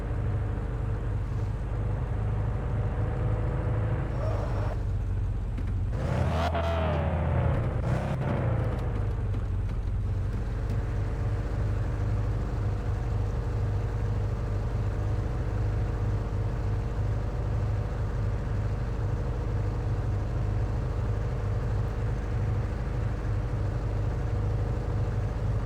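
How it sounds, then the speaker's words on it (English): A truck engine in the horror game The Radio Station drones loud and steady for the whole stretch, a low continuous rumble with a brief surge partway through and no talking. "that fucking truck is loud as fuck"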